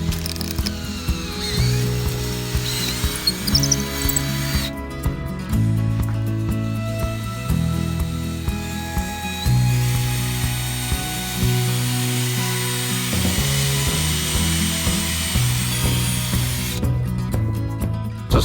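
A drill widens a hole in solid fiberglass on a sailboat, its motor whirring and grinding in repeated bursts with ratcheting, stop-start changes in pitch over a long stretch, with no talk.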